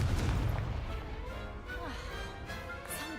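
A Confringo blast spell explodes in the video game Hogwarts Legacy: a deep, rumbling boom at the start fades into tonal game effects and a few lighter pops.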